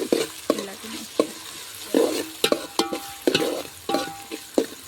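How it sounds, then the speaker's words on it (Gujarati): Pounded spice masala is stirred into jackfruit curry, with repeated spoon scrapes and clanks against the pot over a soft sizzle, in an irregular rhythm, close and fairly loud. "અને હવે આપણો ખાંડેલો મસાલો નાખી દેવું. જ્યાં ખાંડ્યું હતું ને આ બધું નાખી દેવું આપણે અને બધું પલાટી નાખીએ."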